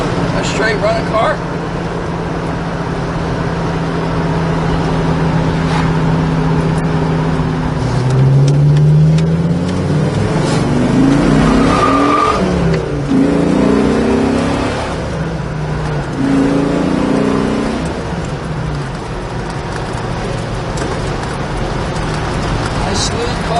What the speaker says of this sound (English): Nice smooth car. Pulls real nice.